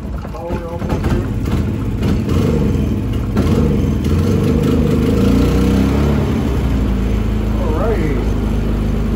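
A Predator 3500 inverter generator engine runs steadily and loud, idling down and then revving back up, with someone talking over it.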